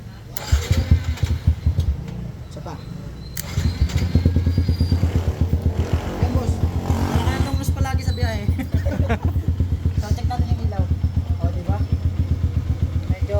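A motorcycle engine is kick-started by hand after a switch cleaning, coughing through a few attempts before catching and running in a close, steady rapid putter for several seconds.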